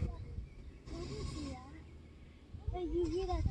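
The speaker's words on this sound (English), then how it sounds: "You hear that baby goat?" A baby goat bleats twice near a lake on a hot day, short wavering cries heard at a moderate distance with a person's voice talking over the background.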